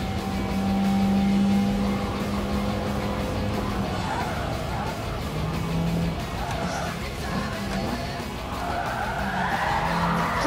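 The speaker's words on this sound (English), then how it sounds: "Woo! Drift, drift!" A car drifting and skidding on the Autobahn in Gran Turismo Sport VR, with long sustained tire squeal over steady engine roar, rising and shifting in pitch toward the end, and a voice shouting excitedly over it.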